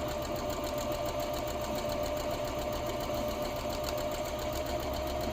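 A sewing machine runs steadily, stitching a fabric cover with a fast, even mechanical whir and rapid needle clatter held at a constant level close by, with no pauses and no talking.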